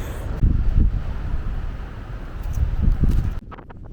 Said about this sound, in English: It is extremely windy right now.